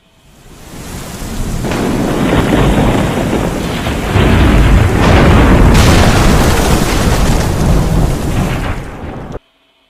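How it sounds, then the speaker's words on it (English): Loud, close thunder rumbles and booms continuously over steady heavy rain in a thunderstorm, swelling partway through and then cutting off abruptly. "all this thunder and lightning."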